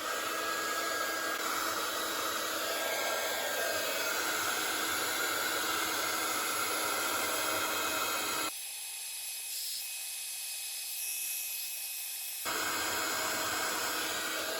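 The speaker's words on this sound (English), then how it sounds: "So get my heat tool." Heat tool blowing hot air over embossing powder for heat embossing in colour on a card craft project, a steady loud airy roar running alone for about eight seconds, briefly dropping to a thinner hiss, then returning.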